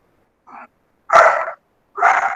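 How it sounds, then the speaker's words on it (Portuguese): A dog barks close by, one small yip followed by two loud, full barks spaced about a second apart, with no talking. "É o cachorro que fala."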